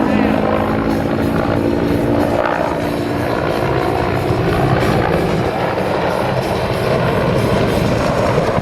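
Cobra attack helicopters fly a simulated attack at the 2011 Wings Over Wayne air show, producing a loud, continuous rotor and engine roar that holds steady throughout.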